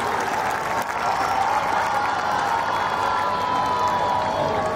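Dense, steady crowd applause with some cheering at an outdoor Republic Day celebration, welcoming the first-place school parade contingent from a sainik school.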